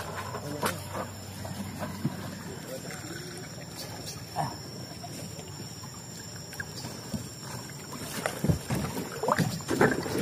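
Small outrigger fishing boat (bangka) heading out to sea for trap fishing, giving a continuous engine and water wash under a steady roar, with brief splashes and knocks near the end and some voices in the background.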